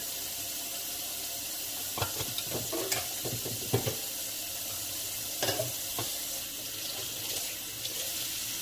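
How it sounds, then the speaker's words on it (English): Steady hiss of a tap running into a sink while a pot is washed beneath it, with intermittent clanks and scrubbing knocks of the pot against the basin, close and continuous. "Clean this pot really good."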